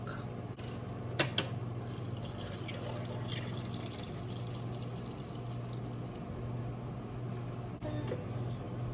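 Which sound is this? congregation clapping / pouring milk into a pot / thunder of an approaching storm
pouring milk into a pot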